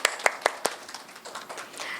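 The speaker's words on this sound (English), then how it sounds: "Still, we can applaud him." A few sharp claps ring out at an awards ceremony, four or five distinct hand claps in quick succession, then fading into faint scattered applause and room noise.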